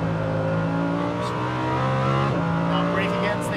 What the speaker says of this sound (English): now squeeze that throttle, go.